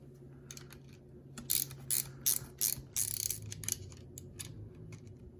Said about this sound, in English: you're just going to take your locking nut and go ahead and secure this on now